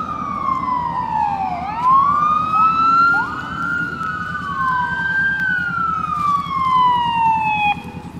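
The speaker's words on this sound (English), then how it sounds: "Slow down and wait for this ambulance to pass." A passing ambulance siren wails steadily nearby, its pitch gliding up and down in long sweeps above a low engine rumble.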